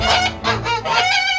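Geese on a rural Korean farm give agitated, harsh honking calls in quick repeated bursts, loud and close, with no talk over them.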